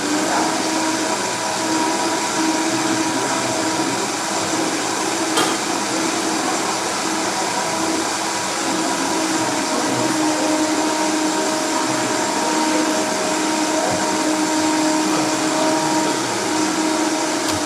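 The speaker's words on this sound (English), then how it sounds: "there's some cashews in here, so let's get this blended" A blender runs steadily and loudly the whole time, whirring through cashews and roasted red peppers with a constant, unbroken motor drone.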